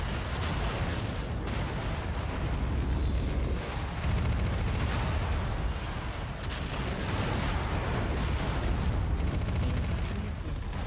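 Incoming missiles explode in mech combat, a dense, loud barrage of booms and crackling blasts rolling on without pause, with a faint voice murmuring under the din.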